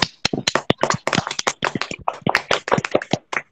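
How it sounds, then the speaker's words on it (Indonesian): A classroom of students claps for a classmate, loud, close, uneven hand claps in a quick, irregular patter that runs steadily for a few seconds. "Tepuk tangan dulu untuk temannya."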